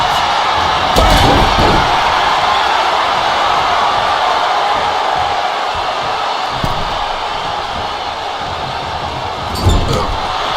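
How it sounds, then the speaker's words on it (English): A raucous wrestling arena crowd at a live WWE match roars in a steady, dense wall of noise, with a few sharp slams or impacts cutting through and faint commentary underneath. "What a raucous crowd here tonight."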